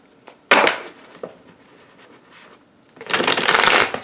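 Two bursts of tarot card shuffling, a short riffle near the start and a longer, louder riffle at the end, with quieter card handling in between.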